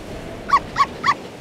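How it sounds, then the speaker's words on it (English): Three short, evenly spaced dog barks from the I Spy Fantasy: Dragon's Lair game, each a clipped yelp over a faint background, alone with no talk. "a dog"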